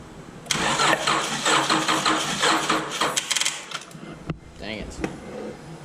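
A 2005 Acura TL engine cranks over on the starter during a compression test on cylinder 6, a steady rhythmic churning for several seconds from up close, slowing and cutting off as the weak battery gives out.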